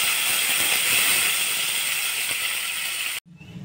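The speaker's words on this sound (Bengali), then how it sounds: "এবার আমি কারি পাতাটা দিয়ে দিচ্ছি।" Curry leaves and dried red chillies crackle and sizzle in hot oil for South Indian sambar, a loud, steady hiss that runs without talk before cutting off abruptly near the end.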